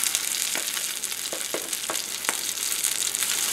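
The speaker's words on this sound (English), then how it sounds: "Yeah, that's sizzling." Steady bright crackle of tuna fish balls frying in hot oil, with a few soft clicks and scrapes as pieces are dropped in by spoon.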